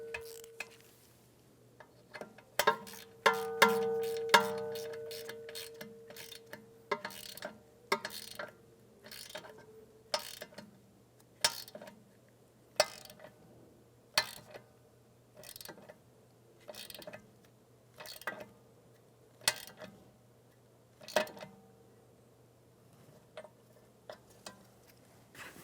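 A ratchet clicks in repeated sharp ticks with pauses between short runs as a 10mm bolt on a rear ABS wheel speed sensor of a 2013-2017 Honda Accord is tightened, close and fairly quiet with a faint hum underneath.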